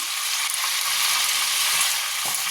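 Bay leaves tempered in hot oil left over from frying fish give a bright, continuous sizzle and spatter, close and loud, with faint scraping underneath and no voices.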